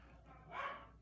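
A single muffled dog bark sounds faintly in the background over quiet room tone.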